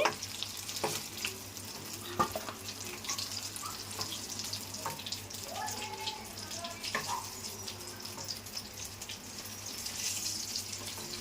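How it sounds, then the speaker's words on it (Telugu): Brinjals fry in a pan with a soft, continuous sizzle and crackle, plus scattered faint clicks and scrapes, heard alone at moderate distance. "వంకాయలు అయితే వేగిపోయినాయండి, తీసేస్తున్నాను."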